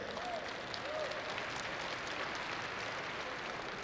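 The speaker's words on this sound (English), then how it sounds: "I see you all cheering" Graduates at a fall university commencement ceremony cheer and applaud in a large hall, a steady wash of clapping heard from a distance, with a few faint whistles.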